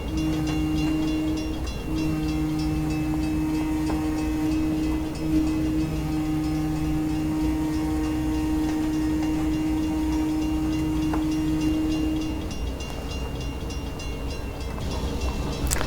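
A steady EMD BL2 diesel locomotive engine in Train Simulator Classic drones with a low rumble and a long sustained tone, mechanical clatter underneath, continuous and close with no talking.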